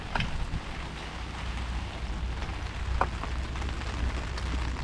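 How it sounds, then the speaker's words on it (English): Rain falls around a camp in the Bishop and Mammoth Lakes area, a steady close patter on a surface with low rumble and a few sharper drops, fairly faint and without speech. "the rain got to us."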